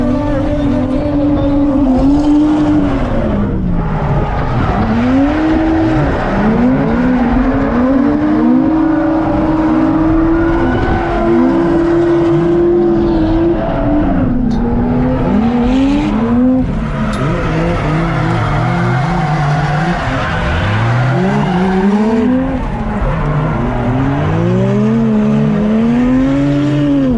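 JDM cars drift in tandem around a track, engines rising and falling through revs while tires squeal in long wavering bursts, loud and close throughout.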